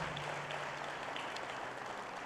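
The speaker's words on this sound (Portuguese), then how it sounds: "Podemos aplaudir a Deus pela palavra de Deus" A church congregation applauds God for the word of God during a morning service, a faint, even wash of clapping from many hands with no pauses.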